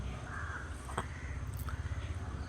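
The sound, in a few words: crows cawing in a jackfruit tree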